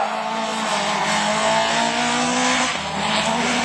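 Rallycross cars including a Peugeot 205 GTI and a Honda racing in the 2012 French championship at Lavaré, with loud continuous engine roar and tire noise sustained throughout, mid-distance, and no talk.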